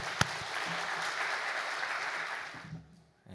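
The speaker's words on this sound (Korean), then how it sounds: "우리 뜨거운 박수로 환영하도록 하겠습니다" A congregation at a church mothers' prayer meeting applauds to welcome a pastor, a thick wash of many hands clapping for about three seconds before it drops away.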